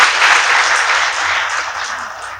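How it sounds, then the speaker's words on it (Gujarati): A live audience at a talk on reading breaks into loud, sustained applause, a dense wash of many hands clapping that stays steady and close for its full length, slowly easing off toward the end. "જોરદાર તાળીથી વધાવીએ."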